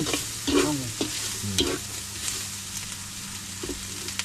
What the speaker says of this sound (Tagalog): Sa ginis sa bawang sibuyas